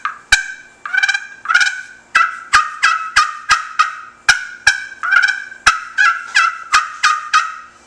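A homemade turkey-hunting striker call, finished and handmade, sounding a rapid gobble in repeated bursts: sharp clicks followed by warbling, rattling yelps, loud and close with no voices.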